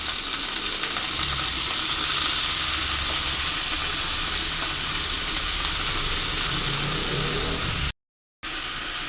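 Chopped kalai shak hits a hot pan already holding onions, green chillies and dried chillies, setting off a strong, continuous close sizzle that runs steadily, cut by one brief silent gap near the end.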